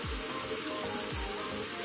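Tap water running steadily onto hands at a sink during a nighttime face-cleansing routine, a continuous close splashing flow with no talk.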